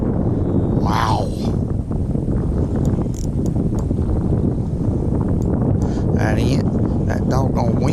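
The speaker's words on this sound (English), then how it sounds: "That doggone wind may have activated them." Gusty wind buffets the microphone out on a lake during pre-spawn crappie fishing, a continuous loud rush with someone talking and exclaiming over it.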